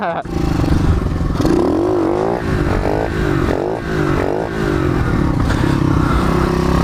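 A pit bike engine revs up and down in a series of rising and falling pulls, loud and close, with a rough mechanical clatter underneath and no talking.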